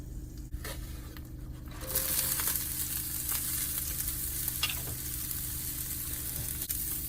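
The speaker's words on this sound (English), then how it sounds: "I'm just gonna add a little bit of oil, get the heat back up on the pan." Turkey pieces fry in oil in a hot pan, a soft steady sizzle that rises and thickens partway through as the food is tossed, with a few light scraping clicks.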